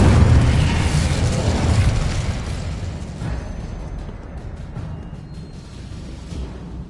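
Incendio fire spell cast in the video game Hogwarts Legacy, a loud whooshing blast of roaring flame that rumbles heavily at first and slowly fades into crackling, with no talk.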